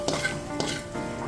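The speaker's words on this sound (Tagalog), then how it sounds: "Igigisa natin ng bawang." Garlic sautés in pork fat in a pan, a brief close sizzle and crackle broken by light stirring scrapes.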